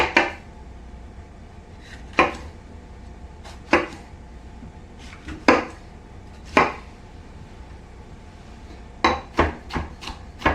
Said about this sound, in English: we're going to cut up a red pepper.